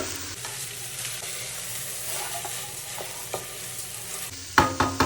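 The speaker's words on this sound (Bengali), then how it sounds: "এখন এই চালটা এই সব কিছুর সাথে একটু ভেজে নেব।" Polao rice frying with spices in a pan for beef biryani, a steady close sizzle with soft stirring scrapes, ending in a few sharp louder scrapes of the spoon against the pot.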